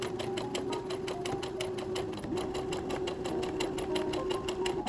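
A sewing machine stitches steadily and loudly throughout, closing the elastic channel openings on a summer Lolita dress, a continuous near mechanical whirr with no talk.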